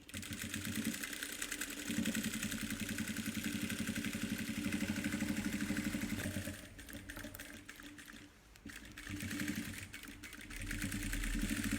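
A sewing machine stitching a pocket onto a fabric organizer, a steady rapid mechanical chatter running nearly throughout at close range, pausing briefly near the end before resuming.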